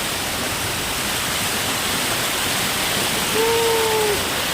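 Steady, loud rush of falling water fills the whole clip, a dense roar close by with a faint tonal whistle rising near the end, heard from beneath a year-round waterfall on the Surya River in Palghar.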